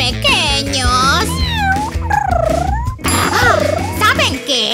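Kittens meow in high, swooping, drawn-out cries that rise and fall, loud and close, mixed with lively voices talking over them.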